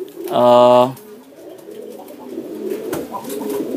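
A single short pigeon coo sounds close and clear, followed by quieter rustling and low murmuring sounds.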